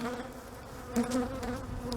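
A steady hum of honey bees fills the air beside an opened hive during a spring inspection, with a short louder swell midway.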